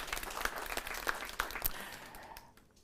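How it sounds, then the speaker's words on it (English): Audience at a 2022 Nakuru gubernatorial debate applauding a candidate after an opening statement, a dense patter of clapping with a few sharper claps, fading out toward the end. "I'd like your voting block again to applaud you"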